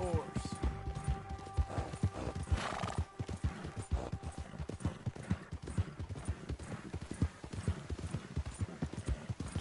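Horse hooves clip-clop steadily at a walking pace in Red Dead Redemption 2, with a whinny near the start, under a game soundscape and occasional talk.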